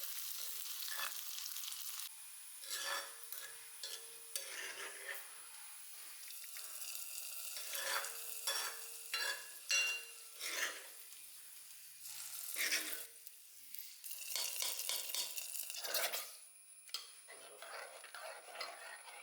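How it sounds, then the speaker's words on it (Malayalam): Small shallots tempering in hot coconut oil for a drumstick-leaf curry, crackling in quiet, intermittent bursts of sizzle separated by near-silent gaps. "വെളിച്ചെണ്ണയിൽ ചെറിയ ഉള്ളി വറവിടാണ്."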